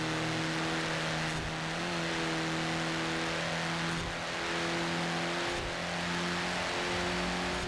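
A VW Golf rally car drives in Forza Horizon 4, its engine droning loud and steady at high revs with a strong harmonic whine, slight dips at shifts and gravelly road noise underneath.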